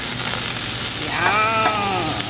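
Smash burgers sizzle on a griddle at an RV Memorial Day BBQ cookout, a steady close crackling hiss that runs throughout, with a wavering tonal cry rising briefly through the middle.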